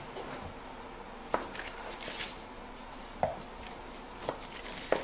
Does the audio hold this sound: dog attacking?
no